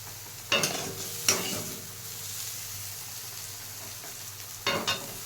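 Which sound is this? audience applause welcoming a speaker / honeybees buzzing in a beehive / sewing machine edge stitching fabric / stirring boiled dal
stirring boiled dal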